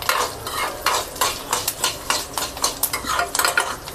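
Lentils and garlic crackle and sizzle in a hot pan with the burner switched off, stirred in repeated scraping strokes with bright popping bursts; close and fairly loud, no voices.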